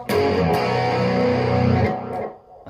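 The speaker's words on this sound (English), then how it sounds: "nice little distortion there" Electric guitar played through a distortion effect, a thick sustained chord ringing for about two seconds and then cutting off, loud and alone, during a tutorial on a song.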